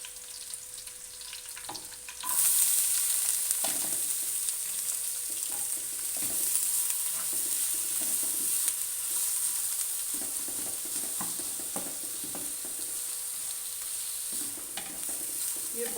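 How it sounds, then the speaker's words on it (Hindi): Onions browning in hot oil pushed to one side of a pan beside fried okra for dhaba-style masala bhindi, giving a steady, loud sizzle with occasional stirring scrapes throughout. "इसी ऑयल में एक साइड पे मैं अपने प्याज को ब्राउन करूँगी।"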